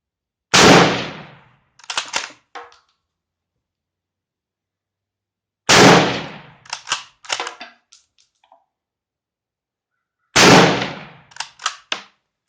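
A Turkish Gew 88/05 rifle fires three loud, sharp shots spaced about five seconds apart on an outdoor range, each blast followed by a few short clattering knocks before silence returns.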